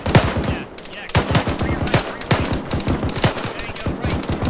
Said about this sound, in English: those bullets are ricocheting inside this bunker